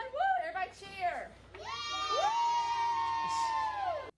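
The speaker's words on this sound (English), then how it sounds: "Everybody cheer!" Children at an elementary school cheer and whoop together in a loud, sustained burst of high voices celebrating a prize win, with a brief spoken call at the start.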